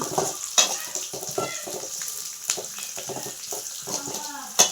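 Roasted peanuts frying in a pan, a dense continuous hiss with rattling scrapes and clicks as they are stirred, a sharper clack near the start and one at the end.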